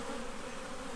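Honey bees from an installed package swarm around an opened new hive during an inspection, producing a dense, steady, loud buzzing drone that fills the whole moment without any speech.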